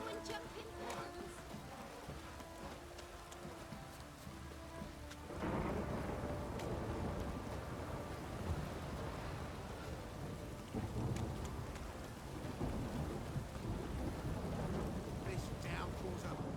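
Heavy rain in The Witcher 3: Wild Hunt pours down in a dense, steady roar that swells suddenly partway through, with faint rumbling beneath.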